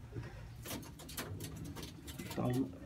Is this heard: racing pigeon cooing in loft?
yes